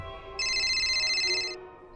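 A mobile phone rings suddenly in a quiet room, a bright repeating electronic ringtone that starts sharply, pulses steadily for about a second, then cuts off, with no talking over it.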